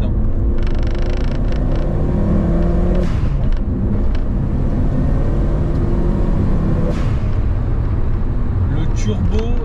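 Loud, continuous engine roar and deep rumble fill the cabin of a turbocharged Peugeot 205 under hard acceleration, with a couple of gear-change dips and a voice speaking over it.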